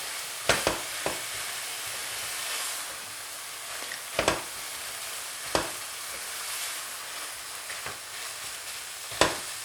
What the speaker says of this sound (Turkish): Bundan sonra devamlı karıştırarak güzelce pişirmeye devam edeceğim.